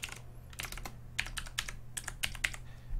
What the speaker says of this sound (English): you just start mashing keys up the top and it will tell you what keys are working or not